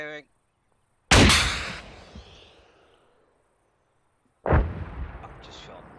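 An Arma 3 launcher fires with back blast, a single sharp, loud close boom that rolls off into a long decaying rumble, then a second heavy blast follows a few seconds later.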